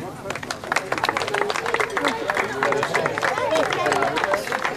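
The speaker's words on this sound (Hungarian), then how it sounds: "Majd tapsot kérünk ismét." Applause from an audience at an award ceremony during the Dunántúl Kupa 2022 competition: steady, dense clapping from a crowd that carries on evenly, mixed with faint background chatter.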